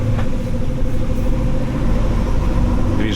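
A vehicle moves slowly through a town. A steady low engine rumble with a mid-pitched drone sits close by and continues evenly throughout, with no talking.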